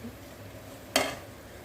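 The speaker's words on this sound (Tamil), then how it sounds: "உப்பு சேர்த்துட்டு நல்லா கிளறி கொடுங்க" A spoon stirs a thick mint, coriander and curry leaf thokku in an oiled pan after salt is added. A soft low sizzle runs throughout, broken by one short, clear scrape-and-clatter midway.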